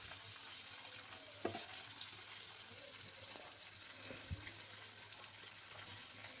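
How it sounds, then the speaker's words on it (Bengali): Pieces of barramundi (bhetki) fish frying in oil in a pan, a steady low sizzle running throughout with a few soft clinks of utensils against the pan. "মাছগুলো ভাজা হয়ে গেছে।"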